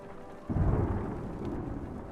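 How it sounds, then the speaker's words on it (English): Thunder in the Banner Saga video game, a sudden deep rumbling roll that swells and then lingers under steady rain, moderately loud with no talking. "The lightning and the thunder."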